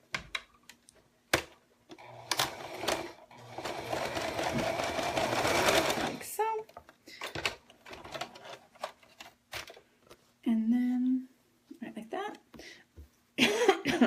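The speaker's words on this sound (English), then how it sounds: "And we're just gonna sew." A sewing machine stitches a paper-pieced snowman quilt block in a steady, close whirring run of about five seconds, followed by handling clicks and a brief low hum as someone speaks now and then.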